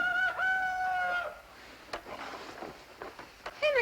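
A rooster crows loudly and close in a sitcom scene, one long drawn-out call followed by quieter clucking and the start of another crow at the end.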